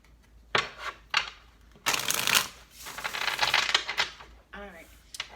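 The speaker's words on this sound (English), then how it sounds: "This will be our last shuffle." Tarot cards rustle and riffle in short bursts and one longer shuffle, up close, with a brief voice sound near the end.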